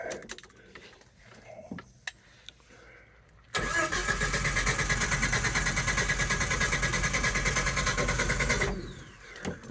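A Jeep engine cranks over without catching for about five seconds, a loud steady rhythmic starter churn that begins abruptly after keys jangle and fades out, preceded by a few quiet clicks and a distant voice.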